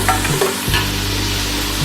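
Chopped tomatoes frying with browned onions in a pan, a dense continuous sizzle close by, with a couple of brief stirring scrapes early on and a low steady hum underneath.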